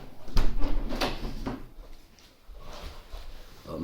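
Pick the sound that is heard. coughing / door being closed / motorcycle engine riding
door being closed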